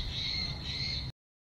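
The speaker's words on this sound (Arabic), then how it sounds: "اسمع عصفور" A small sparrow chirps in a thin, steady high twitter over a low background rumble, cutting off abruptly after about a second.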